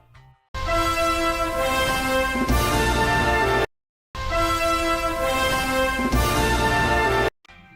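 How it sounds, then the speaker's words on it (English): Intro music from the Zelda game Tears of the Kingdom, a short sustained orchestral phrase played twice with a brief silence between, bright and full, loud and alone. "In Tears of the Kingdom, let's focus on this iconic intro."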